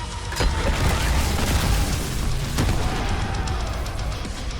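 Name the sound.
charge-up beam explosion, secondary fire, Dead Space Remake video game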